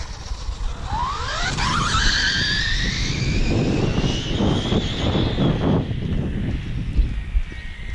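A Traxxas Slash 4x4 RC car on a speed run screams past with a high electric motor whine that sweeps up and then drops in pitch as it passes, loud and close, then fades into wind and rumble.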